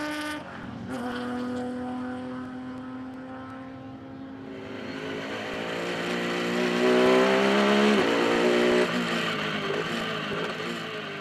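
Onboard a race car in the Omnitel 1000 Km 2013 endurance race in Lithuania, on a bumpy, slippery track with hairpins, the engine drones loudly and steadily, its pitch dipping and then climbing as the car accelerates.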